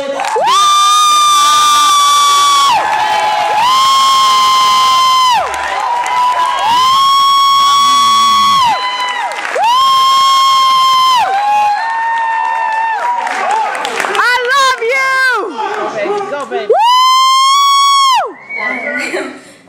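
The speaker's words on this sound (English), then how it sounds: "put some applause in the air for our sacrificial poet" A live crowd at a youth poetry slam finals cheers loudly for a poet, with sustained whoops and shouted cheers over clapping that rise and fall in waves throughout.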